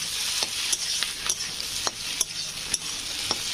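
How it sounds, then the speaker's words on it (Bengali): Dough mixed from wheat flour and refined flour, seasoned with a little salt and a pinch of black pepper, fries and sizzles in a hot iron kadai, with soft hissing throughout and a few sharp scraping stirs. "এটা আমি ভালো করে ভেজে নেবো।"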